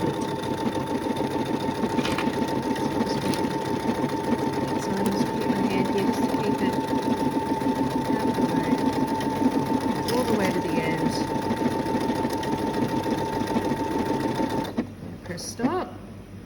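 A sewing machine stitches fabric for a pin cushion with a wide-mouthed presser foot, a steady close rapid whir that runs under talking and stops near the end.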